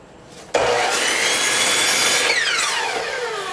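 A power saw bites into narrow wooden boards to trim their ends, starting abruptly with a loud whine that holds steady and then winds down as the blade spins out.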